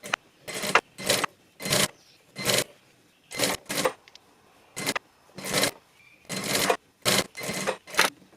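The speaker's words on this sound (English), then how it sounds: "basically you're going to sew from the beginning to the end around the sleeve hem" Sewing machine stitching around the sleeve hem of a throwback-style dress, running in short bursts of about a second each, separated by pauses as the fabric is turned, close and clear.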